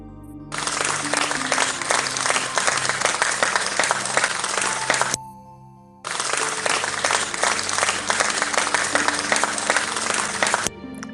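Loud, dense audience applause comes in two sustained rounds of about five seconds each, separated by a brief lull, with no talking.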